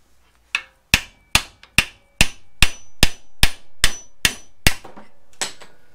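A hammer strikes a steel drift to knock out the upper ball joint on a 1993 Ford F150 4x4, about twelve loud, evenly spaced metallic blows ringing out close by.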